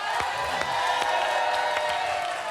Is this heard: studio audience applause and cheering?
yes